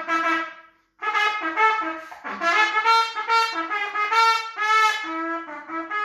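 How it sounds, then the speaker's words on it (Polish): A homemade trumpet built from a kitchen funnel, a garden hose and a piece of pipe, blowing buzzy, brassy notes in a lively rising and falling phrase, loud and close with no talk. "bo to jest instrument wykonany z lejka kuchennego, z węża ogrodowego i kawałek pustnika, który brzmi mniej więcej tak."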